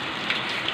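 Heavy rain pours steadily in Pasig, a dense, even hiss of drops striking surfaces close by with a few brief louder spatters and no voices.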